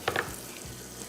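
Butter melting in a pan sizzles softly, with a couple of brief louder crackles at the start fading into a faint, even hiss.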